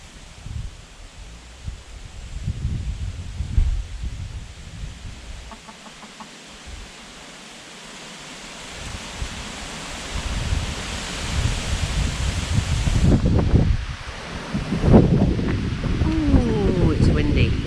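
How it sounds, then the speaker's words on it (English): Gusts of wind buffet and roar, growing stronger toward the end, with rustling and a few hen clucks mixed in. "Oh, it's windy."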